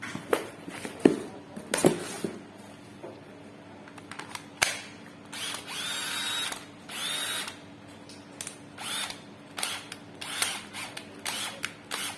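A Makita HP333 hammer drill with a fault that makes it switch modes on its own runs in repeated short bursts of whirring motor, with brief pauses and mechanical clicks in between.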